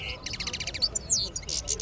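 A wadani songbird chirping at a bird market, a quick run of bright repeated tweets followed by a few sharper calls, close and clear over a low background hum.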